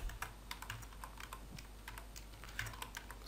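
A keyboard typed on at a steady, moderate pace while entering an email signature, each keystroke distinct but faint over a constant low background hum.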